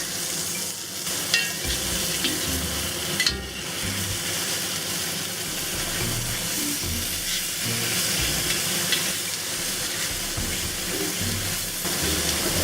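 Tofu and assorted mushrooms stir-frying in a hot pan, a loud continuous sizzle with spatula stirs and scrapes breaking through it at intervals, close up.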